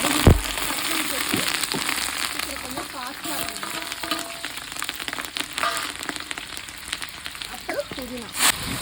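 Spice ingredients fry in hot oil in a home kitchen, a close, busy crackling sizzle with scattered pops and stirring, and faint voice fragments now and then underneath.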